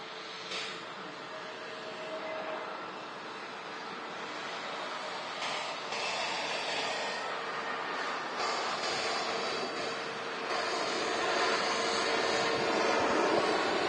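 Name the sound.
EasyJet Airbus A320neo airliner landing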